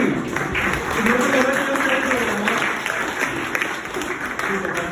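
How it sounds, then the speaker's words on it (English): A large crowd at a fan meet-up in Bangalore claps steadily and loudly throughout, with cheering voices mixed into the continuous applause. "Give a round of applause to me"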